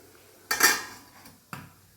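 A metal lid clanks onto a pot of Kerala leaf-wrapped therali appam set to cook on low heat, with a bright ringing clatter, followed a second later by a softer tap.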